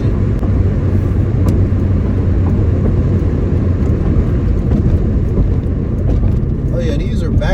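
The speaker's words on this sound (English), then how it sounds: "Got the sunroof open so y'all can hear somewhat of the engine." An Acura RSX with a K24 engine drives along back roads, its engine droning loud and steady inside the cabin with the sunroof open, accompanied by constant road rumble.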